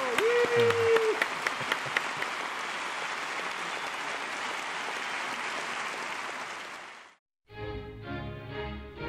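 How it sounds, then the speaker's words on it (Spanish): Studio audience on a talk show giving sustained, fairly loud applause for about seven seconds before it cuts off abruptly, followed by a brief stretch of music. "Un aplauso a Alex Mercado."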